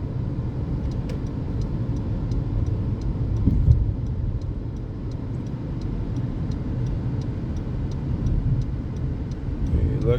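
Car engine and road noise hum steadily through a driving lesson, with a faint regular ticking like a turn signal clicking as the car waits to turn left; a voice speaks briefly over the drone.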